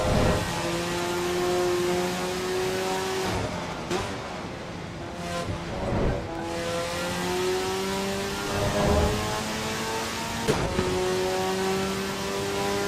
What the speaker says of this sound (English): This is the Dallara EXP on the new cars, on the new track, here on AC Evo.